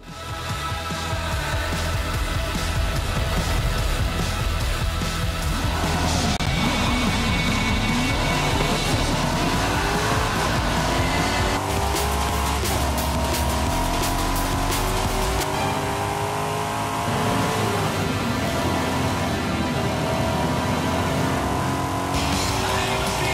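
Racing car from Forza Horizon 5 driving hard, its engine revving and shifting up and down in loud, continuous layers, with the odd tire squeal and no speech.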